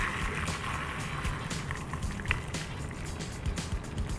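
Pho beef broth being strained, a faint, continuous trickling and splashing of liquid with soft clinks, heard up close.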